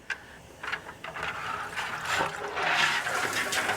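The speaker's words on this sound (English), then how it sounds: "Let all this water drain out." Water pours and splashes out steadily from a boiling basket of peanuts lifted from the pot, building into a continuous rushing drain, with a few sloshing clunks early on.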